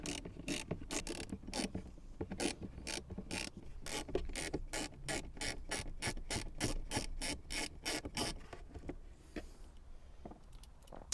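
A ratcheting screwdriver drives screws into a glovebox in a Metro car interior, giving a close, loud series of sharp ratchet clicks in quick regular bursts that fade into quieter handling toward the end.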